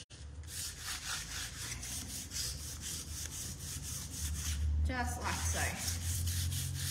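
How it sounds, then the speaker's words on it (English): Sandpaper lightly sanding chalk paint coated with Pureco liquid wax, heard as a steady run of quick, rhythmic rubbing strokes up close, with a person briefly speaking near the end. "just give it a really light sand and just let that sandpaper do the work"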